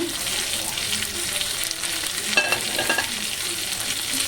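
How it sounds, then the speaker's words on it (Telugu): A piece of fish frying in hot oil, a continuous dense sizzle close by, with a brief burst of louder crackling and clinking in the middle. "ఇంకొక చేప ముక్క వేసుకుందాము"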